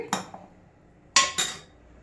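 A spoon knocks against a pan while spices are stirred into chicken butter gravy: a few sharp metallic clinks, one early and two close together later, set against quiet.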